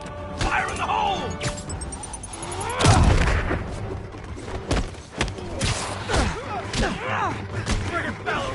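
Explosions and crashes in Marvel's Spider-Man on PS4: several heavy booms and impacts, one large blast near the middle, mixed with game effects and shouted voices.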